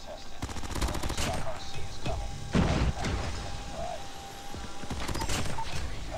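Rapid automatic gunfire bursts from the shooter game COD Mobile crackle in several close volleys separated by short quieter gaps, with sharp impacts and mechanical clatter between them.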